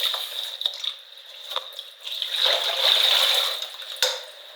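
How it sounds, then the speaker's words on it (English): Julie mangoes are rinsed under a running tap, a steady hiss of flowing water broken by uneven splashes, taps and drips as the fruit is handled, fairly close and quiet. "So I'm washing the Julie mangoes, right?"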